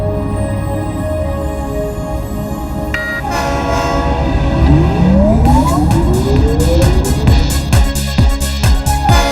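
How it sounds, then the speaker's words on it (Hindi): A cartoon train rolls closer with a blaring horn, loud and steady under lively background music, with rising rumble and clattering wheels toward the end. "वो देखो ट्रेन आ रही है।"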